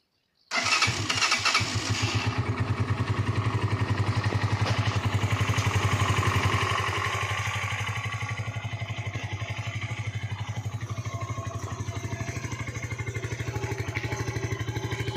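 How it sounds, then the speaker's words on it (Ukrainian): A Musstang ST 200 motorcycle engine cranks and catches, revving briefly before settling into a steady, close idle that runs on without pause. "Заводимо, прогріваємо мотоцикл і дивимося знову на уровень."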